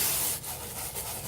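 A brush scrubs a scratch-resistant BMW door panel to lift makeup stains, giving a steady, close, broadband rubbing with slight dips in intensity and no voices.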